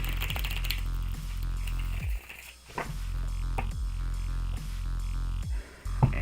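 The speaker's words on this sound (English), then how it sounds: "This is going to be my last shuffle." A tarot deck shuffled by hand up close, giving repeated crisp, clicking riffle bursts in a steady rhythm with brief gaps and no talk.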